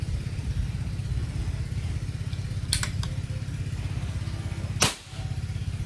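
A Manlapat frame-type CO2 air rifle fires on its second cocking: one sharp, loud crack close by near the end, after a couple of lighter mechanical clicks, all over a steady low droning hum.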